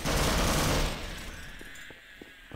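Dense, loud automatic gunfire from the Half-Life video game roars in a continuous burst, then thins into a few scattered single shots near the end.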